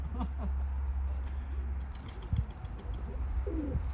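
Pigeons coo in short, soft, throaty phrases amid a flock of some 75 newly released birds outdoors, with faint rustling and wing flutter in the background and steady low wind rumble.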